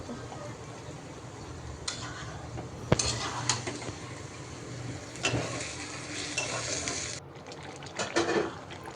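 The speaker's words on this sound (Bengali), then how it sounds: "এখন আমি আবার একটু নাড়াচাড়া করে দিচ্ছি।" Meat with fatty skin fries in oil in a pan, a steady sizzle running throughout while a utensil stirs and scrapes it in several bursts, with occasional clinks against the pan.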